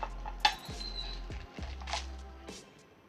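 Small baking pans clink and rattle lightly as they are unboxed, a few quiet metallic knocks and soft rustling spread over a few seconds, close by.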